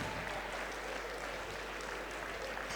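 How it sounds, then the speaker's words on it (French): An audience at an African group's gala evening at UNESCO applauds steadily, a dense, even wash of clapping heard from a distance and sustained without pause. "Merci de les applaudir."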